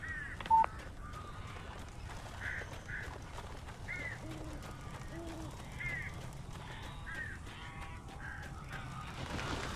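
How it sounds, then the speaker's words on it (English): Crows caw repeatedly in the Alan Wake video game, giving short harsh calls scattered across the scene at moderate distance over a low ambient rumble, with one brief beep near the start. "These birds are weird."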